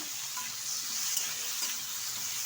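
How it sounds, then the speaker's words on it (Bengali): Washed pieces of eggplant fry in oil with turmeric powder, producing a steady, soft hiss of sizzling that is even and continuous, with no talking. "বেগুনটা ভালোভাবে ভেজে নেব"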